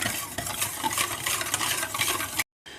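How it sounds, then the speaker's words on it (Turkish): Sauce stirred in a pot on the stove until it thickens, a steady close scraping and swishing of the spoon against the pot, continuous and fairly loud, then a brief cutoff near the end. "Şimdi güzelce karıştırıyorum kıvamını alana kadar"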